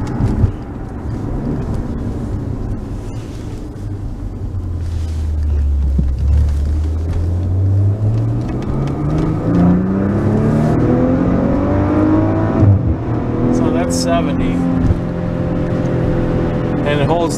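A 2017 Maserati Ghibli SQ4 AWD pulls hard on the road, its engine note rising through the revs with a smooth sweeping climb, heard up close from inside the car.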